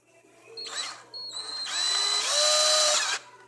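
A power drill with a bit bores out a pipe fitting during a home power steering leak repair, whining loudly in two short bursts and then one sustained run that rises in pitch before cutting off.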